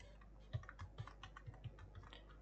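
Someone types on a computer keyboard while entering text in a tutorial. Soft, quiet key taps come in a fairly even rhythm across the short stretch, close and faint, with no talking.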